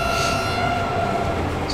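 Game train from Transport Fever running along its line, a steady rumbling rail noise with faint sustained horn-like tones, heard alone at a constant moderate level.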